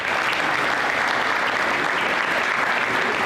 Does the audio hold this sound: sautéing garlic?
no